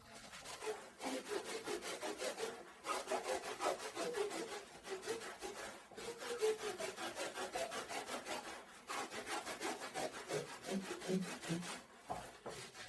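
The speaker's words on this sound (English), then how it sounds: "visually starting to cut the foam in half" Foam padding for chair reupholstery is cut by hand with steady back-and-forth sawing strokes, a close, quiet rasping rhythm repeating in short even bursts with brief pauses.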